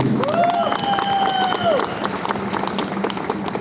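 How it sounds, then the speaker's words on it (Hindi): Applause from an audience at a recognition meeting in Hyderabad, a dense patter of clapping with some cheering, heard alongside a loud tonal squeal and voices. "एक बार जोरदार तालियां आप बजा सकते हैं।"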